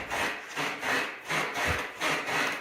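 Rhythmic rubbing squeaks from a 2022 Can-Am Renegade 1000 XXC's suspension, repeating about twice per second, close and fairly loud, as it is bounced up and down.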